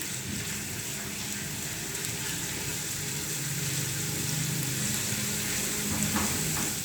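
Ginger garlic paste fries in hot oil in a pan, giving a steady, dense sizzle that crackles continuously for several seconds without any talking.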